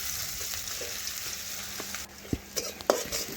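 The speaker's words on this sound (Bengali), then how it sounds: "পেঁয়াজ একটু নাড়াচাড়া করে লাল লাল করে ভেজে নেব" Chopped onion sizzles in hot oil in a pan while being stirred for a fish-head curry, a steady close frying hiss broken by a few sharp scrape and stir knocks near the end.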